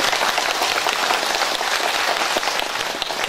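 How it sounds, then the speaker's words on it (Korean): A concert audience at a family-themed poetry recital in Daejeon claps loudly and densely for members of a Korean recitation society, a continuous wash of applause with no talk. "우리 한국낭송문화협회 회원님들한테 감사의 큰 박수 부탁드립니다"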